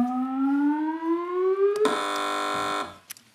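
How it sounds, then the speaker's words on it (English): A contestant hits a TV panel quiz show buzzer during a picture spin round. A rising electronic sweep leads into a loud, harsh one-second buzz, followed by faint trailing blips. "Fingers hovering over the buzzers,"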